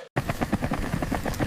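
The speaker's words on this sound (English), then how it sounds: "there's a whole military helicopter in the woods" Military helicopter in woodland, heard as a continuous rhythmic rotor chop with fast regular blade thumps, fairly loud and steady after a brief silent opening.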